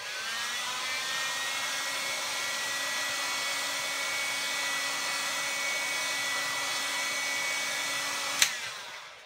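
A steady, loud whoosh of hot air plays continuously against the sides of a Sony Xperia Z3 Compact during a screen replacement, with a constant motor whine and a short click near the end.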